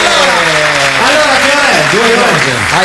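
A radio show studio audience on Viva Radio 2 applauds in a dense, steady wash of clapping that fills the whole stretch, with a voice talking loudly over it throughout.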